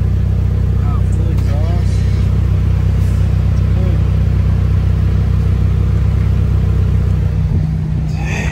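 A 1998 Mitsubishi Lancer Evolution V with a full aftermarket exhaust rumbles steadily at idle, deep and close, while people talk quietly over it.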